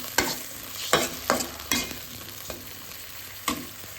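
Vegetables stir-fried in a pan with a little water added, giving a low steady sizzle broken by several sharp scraping strokes of the spatula at irregular intervals, close by and with no talking.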